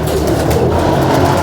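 Pigeons coo softly in a loft, the calls partly buried under a loud, steady rushing background that lasts throughout.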